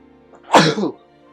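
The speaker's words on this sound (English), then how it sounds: "I got a sneeze coming on." One sharp, close sneeze erupts suddenly against a quiet background, a short breathy burst that fades quickly.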